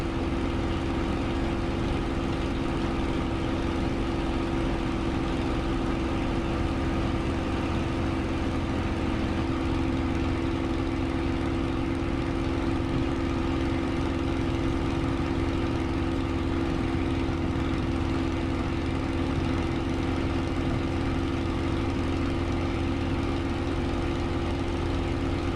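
Spitfire engine in Microsoft Flight Simulator, a steady, loud propeller drone with a constant low hum that holds unchanged for the whole stretch, with no voices.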